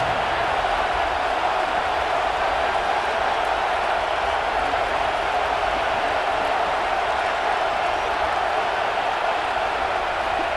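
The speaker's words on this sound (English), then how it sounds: "Listen to this crowd just shaking the girders of this place, trying to help their defense." Stadium crowd roaring in a college football video game as the home fans cheer on their defense, a dense, steady wall of noise that holds at full loudness throughout without a break.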